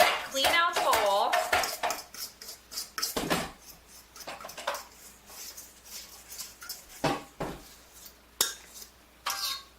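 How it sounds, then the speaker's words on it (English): Pizza dough being scraped out of a mixing bowl, with close, sharp clinks and knocks of a utensil against the bowl, irregular and fairly quiet, scattered over short pauses. "I clean out the bowl"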